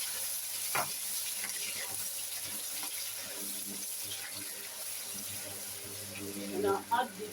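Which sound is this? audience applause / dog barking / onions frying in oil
onions frying in oil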